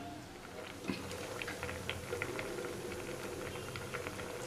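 Split moong dal lentils boil in plenty of water in a pot, a steady close bubbling and popping simmer that continues without pause.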